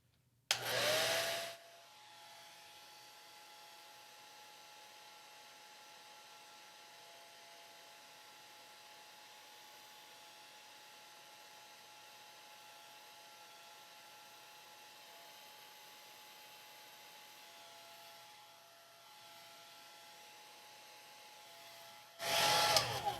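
A hair dryer blows steadily on a watercolor painting of a winter cabin in the woods, a continuous whirring hum running close and unbroken for about twenty seconds, with louder bursts as it switches on and off at each end.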